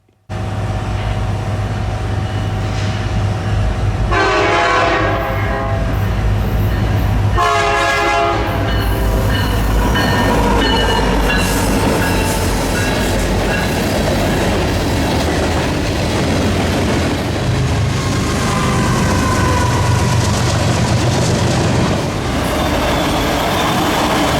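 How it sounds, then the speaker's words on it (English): Eastbound freight train passes close and loud, sounding its horn in two bursts early on, followed by a long rumbling roar of rolling cars with clattering wheels. "Plus, I got a horn salute, so this trip was definitely worth it."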